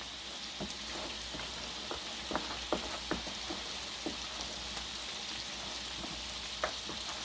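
Catfish and fries sizzle steadily in hot oil while a utensil stirs them, giving scattered soft clacks and scrapes over the constant frying hiss, with no talking.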